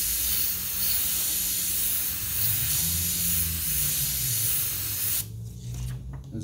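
An airbrush spraying paint in back-and-forth passes over a fire stencil set, a steady close hiss that runs unbroken for about five seconds and then cuts off, leaving quieter room noise.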